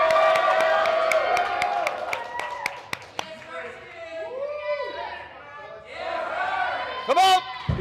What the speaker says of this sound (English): Crowd, let's make some noise for Darren.